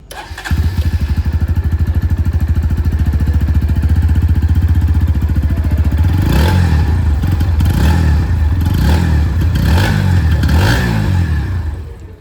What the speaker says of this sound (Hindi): ये जो अंडरव्हील एग्जॉस्ट आप देख पा रहे हैं उसकी साउंड मैं आप लोगों को सुना सकूँ